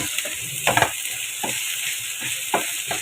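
Potatoes, onions and chillies fry in a pan with a steady broadband sizzle, broken by several scraping stirs and a few sharper clatters, close and moderately loud, with no voices.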